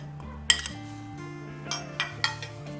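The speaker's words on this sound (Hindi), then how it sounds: "अब हमने इसको मिलाना शुरू कर दिया इसमें" A utensil clinks sharply against a bowl a handful of times while cooked vegetables are mixed with minced beef, with a few bright metallic taps spaced irregularly over quiet pauses.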